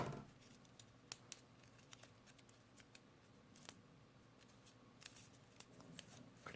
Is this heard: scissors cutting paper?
yes